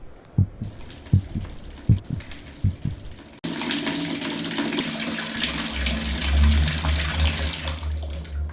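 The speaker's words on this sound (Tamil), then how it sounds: "தண்ணி யார் திறந்து விட்டா?" A water tap is opened and water runs and gushes steadily and loudly at close range after a few separate drips and knocks.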